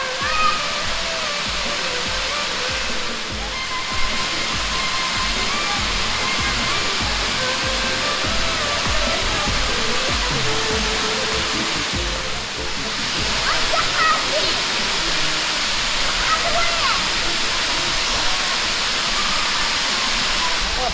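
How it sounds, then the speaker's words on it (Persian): Dudbzan waterfall roaring with rushing water, a loud continuous broadband wash that stays steady throughout, with voices talking faintly under the roar. "اسم این آبشار چیست؟ آبشار دودبزن."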